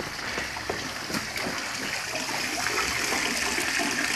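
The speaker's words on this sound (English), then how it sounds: "There's a spring here." Water from a natural spring gushing and splashing steadily outdoors, a continuous broadband rush at close range with no pauses, no talk.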